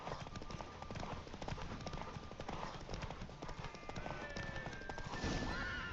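Roach, a horse in The Witcher 3, gallops with rapid, steady hoof clip-clops close up, joined by a whinny and game music, continuing throughout without pause.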